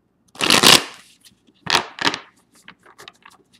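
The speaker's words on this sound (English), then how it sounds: "let me shuffle one more time" Close, crisp riffling bursts of tarot cards being shuffled, two main shuffles followed by a few light taps and flicks.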